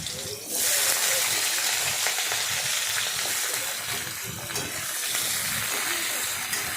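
Steady loud sizzling of potatoes frying in hot oil in a pan, a continuous crackling hiss throughout with no talking.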